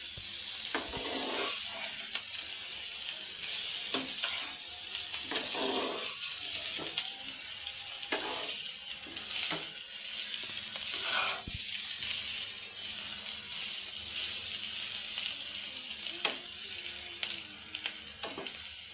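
Bitter gourd and potato slices frying in a pan give a steady, close sizzle with brief crackles and soft stirring scrapes throughout, with no talking.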